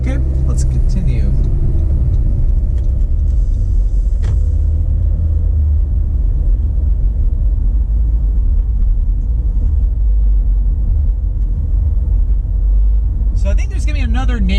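Car driving along a city road in Flint, with a steady low engine and road rumble throughout and a brief burst of higher noise near the end.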